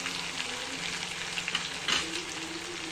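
Chopped onion sizzles and fries in oil in a pan while being stirred for a sev bhaji curry, a continuous close crackling hiss with small stirring bumps and no voices.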